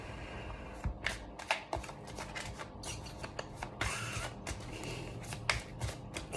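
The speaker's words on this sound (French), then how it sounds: "Bon, on va mélanger le petit jeu." A small deck of cards is shuffled by hand, close and fairly quiet, in repeated riffles and rustling bursts with brief pauses between them, without talk.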